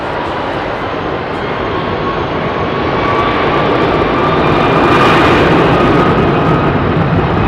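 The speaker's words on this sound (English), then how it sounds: "Middle East Airlines 330-200," Middle East Airlines Airbus A330-200 with Rolls-Royce Trent 700 engines departing London Heathrow runway 27R, a steady loud jet roar that swells slightly mid-way and holds, broadband and continuous with no talk.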